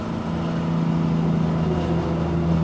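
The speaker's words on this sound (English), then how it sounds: "I'll flick between the high and low on the engine brake." Truck engine brake holding the truck back in low gear, a steady loud low drone with a sustained buzzing harmonic tone, constant throughout with no talk.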